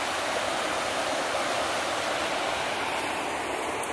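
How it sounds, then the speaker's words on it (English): Steady broadband rushing of falling water, continuous and fairly close, with faint high chirps near the end. "There's a waterfall."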